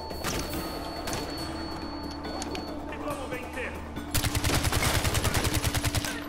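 Gunfire in the video game Far Cry 4, with scattered distant shots and ambient game sound, then a sharp burst of rapid automatic fire with evenly spaced shots over the last two seconds.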